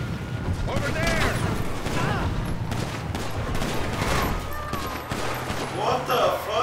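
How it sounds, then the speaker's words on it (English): Gunfire in the video game GTA V crackles in scattered volleys and bursts while voices shout and talk over it throughout. "Where are they shooting from?"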